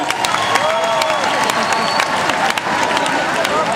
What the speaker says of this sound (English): Give Francisco a round of applause.